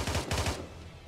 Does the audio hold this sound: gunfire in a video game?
yes